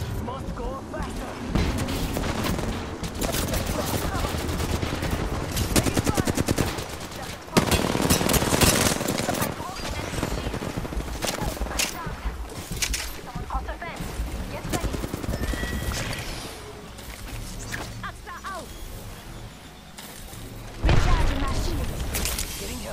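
Heavy gunfire in the battle royale shooter Apex Legends: dense rapid automatic bursts and impacts crowd the mix almost continuously, with game voices and effects layered in.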